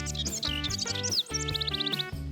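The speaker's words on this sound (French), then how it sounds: "Hé, le chant des oiseaux est superbe!" Cartoon birds chirp and trill in a lively spring song alongside a musical backing, with quick rising tweets bunched into bright repeated phrases throughout.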